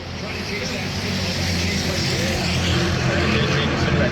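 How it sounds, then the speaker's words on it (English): Ford Crown Victoria race cars roar past on a track during a race event, a continuous dense engine drone holding steady throughout, with indistinct voices faintly underneath. "you're going to get to hear the full song of these Crown Vics"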